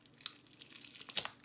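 Coffee-dyed paper is torn in two quick rips with soft crinkling between them, close and fairly quiet.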